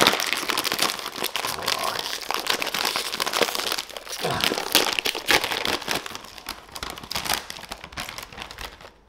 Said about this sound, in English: Let's crack them open and see what they look like.